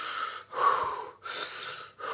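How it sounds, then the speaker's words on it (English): Forceful breathing out through pursed lips, a blow breath done as a breathing exercise: three strong, close, airy exhalations in a steady rhythm, each broken by a short pause, with no talk. "The second one you can do is called the blow breath."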